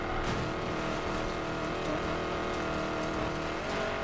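A drag car engine roars steadily in the video game Need for Speed Payback, a dense continuous rumble with faint tire noise and no talk.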